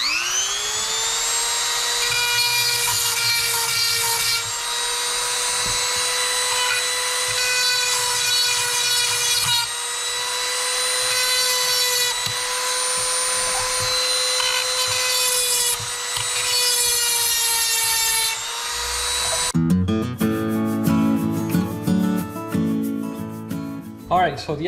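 A power tool sharpens a blade on a homestead, producing a loud sustained high-pitched grinding whine for about twenty seconds before it gives way to a rougher, clattering metallic noise.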